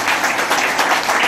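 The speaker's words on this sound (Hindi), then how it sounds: "एक बार जोरदार तालियां हो जाए।" Audience applause at a certificate presentation for trained young women, a short, dense burst of many hands clapping, close and loud, with no speech over it.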